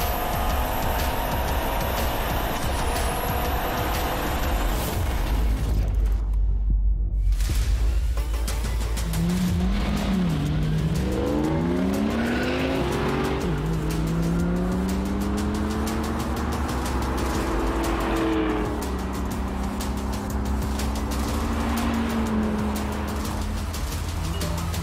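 A fast BMW, Mercedes or Audi accelerates hard through several gear shifts, the engine note sweeping up in pitch after each change, loud and sustained, with a sharp whoosh early on and road noise under it.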